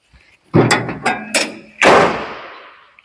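A heavy compartment door on a Kubota AR218 rice harvester is slammed shut with loud thuds and a metallic clunk, then a final hard slam that rings out briefly.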